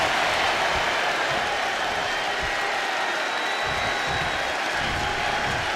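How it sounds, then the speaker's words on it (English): Arena crowd in a WWE 2K25 wrestling match cheering and applauding as a wrestler plays to the fans, a steady dense roar of clapping and voices filling the whole stretch at even loudness. "And now Randy is playing to the crowd"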